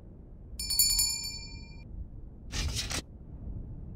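A bright metallic bell, pulled by a rope in the game Lost Chronicles of Zerzur, jingles in a quick ringing burst, then a short harsh scrape or rattle follows, over a quiet background hum.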